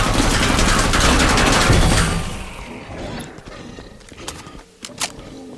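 A dense burst of rapid gunfire rattles loudly for about two seconds in Killing Floor 2, then cuts off, leaving a quieter background with a few scattered sharp knocks and clicks.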